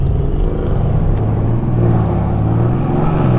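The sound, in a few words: Mercedes-AMG cars (E63, C63, S63, E53) driving off loudly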